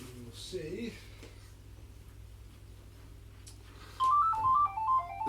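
A phone's incoming-call ringtone enters partway through as a clear, repeating melodic electronic phrase, preceded by quieter talk and room hum.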